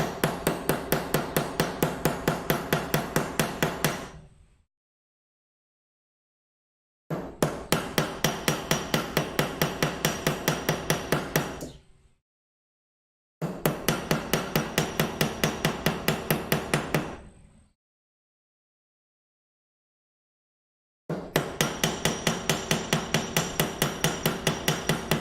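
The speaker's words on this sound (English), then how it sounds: "I'm getting by just fine with a 3-pound hammer" A 3-pound hammer strikes steel on a machinist vise used as an anvil, giving four runs of rapid, evenly paced metallic blows, each lasting about four to five seconds and separated by silent pauses, loud and close with no talk.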